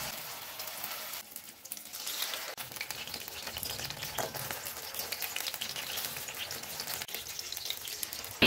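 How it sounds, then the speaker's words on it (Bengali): Ash gourd patties dipped in gram-flour batter bubbling in hot mustard oil, a soft, rain-like crackle of frying that runs steadily throughout at a quiet level, with no voices. "এবার চাল কুমড়োর পুরগুলোকে বেসনের ব্যাটারে চুবিয়ে গরম তেলে দিয়ে দেব।"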